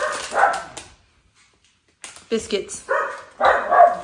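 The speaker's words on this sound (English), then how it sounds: "Dogs." Several pet dogs bark and yip loudly indoors in short excited bursts, while someone talks to them over and between the barks.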